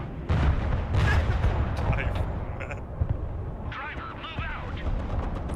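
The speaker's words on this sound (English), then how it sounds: "Watch out, you got artillery here." Artillery fire in the video game Broken Arrow, a series of booming low blasts and rumbles in a busy battle mix, with players talking over the action.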